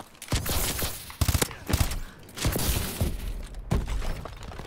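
Gunfire rings out in Call of Duty Advanced Warfare, several loud sharp bursts and single cracks spaced unevenly across the moment, with clattering debris between shots.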